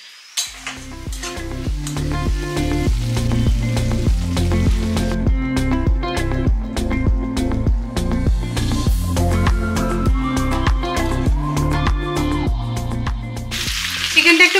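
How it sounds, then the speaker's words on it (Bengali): Country chicken sautés in a pan with a loud, steady sizzle and dense crackling spatter. Repeated stirring scrapes and clinks run through it, and a brief burst of brighter hiss comes at the end. "চিকেনটা একটু কষিয়ে নিতে হবে"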